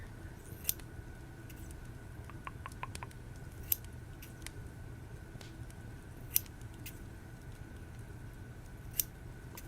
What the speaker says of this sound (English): They're nice scissors, yeah.